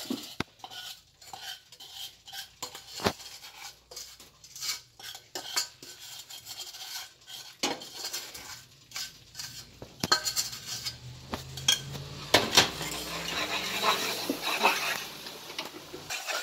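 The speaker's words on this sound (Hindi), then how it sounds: "चासनी नूं आपां चंगी तरह बेसन विच मिक्स कर लिया।" Sugar syrup being stirred into roasted, golden-brown gram flour for barfi in a pot, with repeated spoon scrapes and clinks against the metal, close and steady, growing busier toward the end, no talk.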